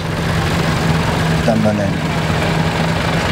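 A Truckmaster tractor built on a 950 base idles with a steady low engine drone at a harvest event, while someone speaks briefly over it.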